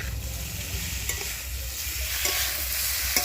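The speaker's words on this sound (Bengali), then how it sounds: "এখন দেখুন চালটাটা কিন্তু বেশ অনেকটাই ভাজা ভাজা হয়ে গেছে" Pieces of elephant apple fry in hot oil in a pan for a sweet, sour and spicy pickle, giving a continuous loud sizzle broken by soft stirring scrapes.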